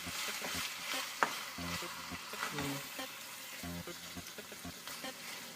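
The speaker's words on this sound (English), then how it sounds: "Mix that up, Faye." A spatula stirs and scrapes food in a sizzling frying pan during home cooking, with a steady crackle under repeated close stirring strokes and occasional clinks against the pan.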